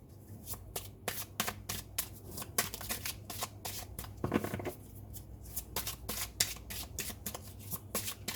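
Tarot cards are shuffled and drawn in a quick, steady run of crisp riffling flicks and slaps, close and fairly quiet, with no talking.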